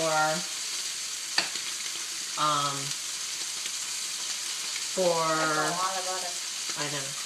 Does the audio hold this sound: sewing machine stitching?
no